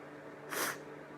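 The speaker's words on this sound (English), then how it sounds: "I did not mean to sneeze" A single quick, breathy sneeze burst with a sharp hiss, lasting under half a second, standing out from a quiet background.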